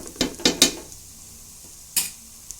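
A spoon stirs raw banana curry in a pan: a few short scraping clinks in quick succession, then a pause and one more scrape, over a low background hiss.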